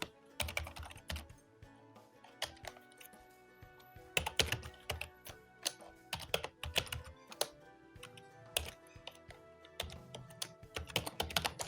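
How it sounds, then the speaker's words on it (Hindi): Fingers type a search phrase into a computer keyboard, a close, uneven run of crisp key taps with louder thumps between quicker clusters and no voices. "गूगल पे टाइप करना है देहरादून स्मार्ट सिटी"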